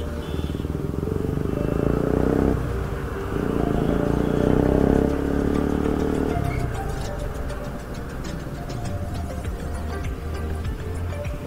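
A Batman-styled motorcycle on a test drive, its engine droning loud and close with a low steady rumble that swells and eases as the throttle shifts, accompanied by fast ticking mechanical clatter.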